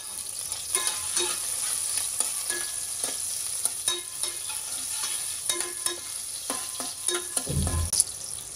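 Onions and chilies frying in a little hot oil in a pan, a continuous close sizzle broken by frequent spatula scrapes and stirring clicks, with one brief low thump near the end.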